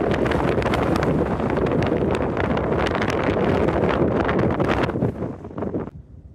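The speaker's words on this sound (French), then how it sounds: "Il y a du vent" Strong wind buffets a microphone outdoors, a loud, continuous rumbling roar with gusty fluctuations that drops away abruptly near the end, with no voices.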